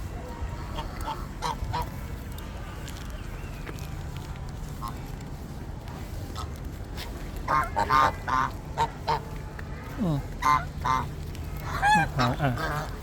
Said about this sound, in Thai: เป็ดและห่าน